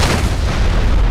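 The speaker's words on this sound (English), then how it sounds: "Explosion." Explosion in Skyrim's Enderal mod, a loud, dense boom filling the whole second with a rumbling low end and no voices over it.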